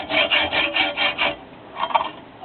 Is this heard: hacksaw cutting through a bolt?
yes